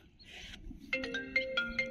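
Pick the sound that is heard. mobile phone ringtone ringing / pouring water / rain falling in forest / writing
mobile phone ringtone ringing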